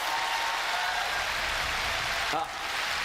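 Audience applause fills a fan festival hall in London as a dense, continuous patter of clapping, fairly loud and even, then briefly dips near the end as a voice begins to speak.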